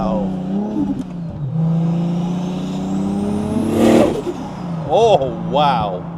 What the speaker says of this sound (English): It's literally accelerating away you go.